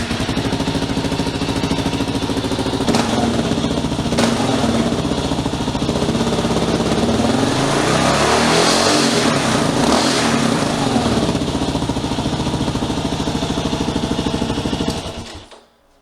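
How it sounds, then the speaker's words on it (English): A dual sport motorcycle fitted with a cheap aftermarket exhaust starts cold and settles into a steady, loud, raspy idle close by that runs for about fifteen seconds before cutting off, with no talking. "I'm gonna fire it up cold and then I'll let it sit and idle for a bit until it warms up"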